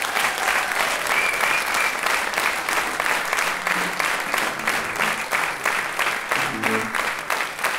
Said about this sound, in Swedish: Ge dem en stor applåd.